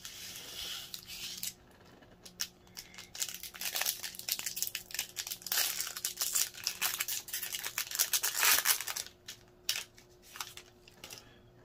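Continuous crinkling and tearing of foil Magic: The Gathering card pack wrappers from the Forgotten Realms set, close and busy with rapid rustles and rips, no talking.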